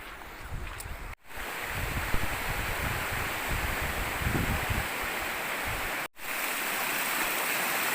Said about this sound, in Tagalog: Medyo malakas lang yung agos.